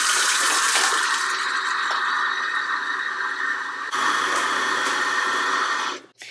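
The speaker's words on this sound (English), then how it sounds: "I'm just going to fill it up with water now" Water running steadily from a household tap into an electric kettle, a loud continuous hiss and splash lasting several seconds before cutting off with a brief clunk.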